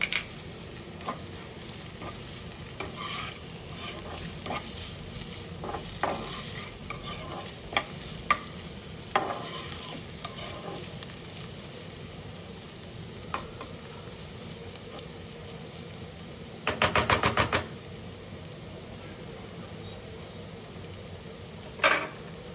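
A spoonful of ginger, green chili and garlic paste sizzles in hot oil. A continuous close frying hiss runs under scattered spatula scrapes and taps, with one brief loud rattling burst late on and no voices.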